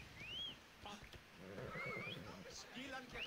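A horse whinnies in a high, wavering call in the video game Assassin's Creed Odyssey, followed by more neighs under a busy mix of voices and game sounds.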